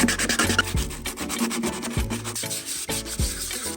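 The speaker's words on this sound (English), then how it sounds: "we still need to do a lot of hand sanding because none of this is actually properly flat" Hand sanding in a car engine bay: repeated rough back-and-forth rubbing strokes in an uneven rhythm, close and fairly loud, with no talking.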